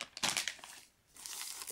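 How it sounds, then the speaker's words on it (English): A plastic bag with a foil-like layer from a Halo Combat Evolved Anniversary press kit crinkles in two close bursts as items are pulled out, with a short lull between. "But again, it's a plastic bag. So let's get the items out."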